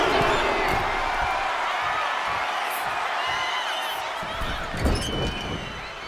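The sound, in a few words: wrestling crowd cheering in WWE 2K25 video game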